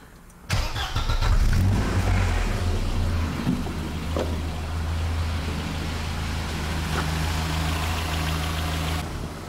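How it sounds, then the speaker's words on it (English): An old car's engine cranks and catches, roaring briefly before settling into a steady, close idle that runs on evenly. "Turn off loads and start engine."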